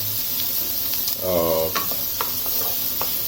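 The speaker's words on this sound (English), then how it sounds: "onion, finely chopped, and we're going to saute that" Finely chopped onion sautéing in a pan as the base for a Dhaba-style paneer masala, a steady sizzle with light stirring scrapes and a brief voice-like tone partway through.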